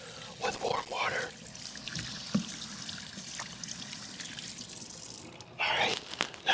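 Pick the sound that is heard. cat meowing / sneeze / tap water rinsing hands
tap water rinsing hands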